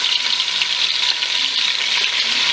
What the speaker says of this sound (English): I go ahead and put my goat meat in.